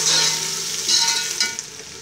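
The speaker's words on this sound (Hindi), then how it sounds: "अब इसमें अदरक लहसुन का पेस्ट ऐड करते हैं।" Ginger-garlic paste sizzles steadily in oil with golden fried onions while cooking biryani, a continuous close, bright hiss with faint stirring scrapes throughout.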